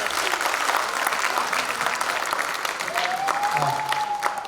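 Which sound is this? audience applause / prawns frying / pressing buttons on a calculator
audience applause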